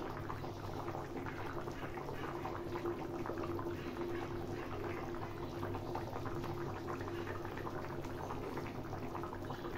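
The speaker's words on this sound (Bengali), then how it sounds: "আমাদের ঝোলটা ফুটছে" Bengali rohu fish curry broth (macher jhol) boils steadily in a pot on a gas stove, a continuous close bubbling simmer with no talking.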